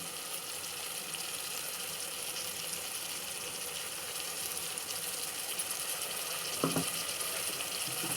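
Chicken coated with ginger garlic paste fries in oil, a steady hissing sizzle that stays even throughout, close by, with one brief knock near the end and no talking.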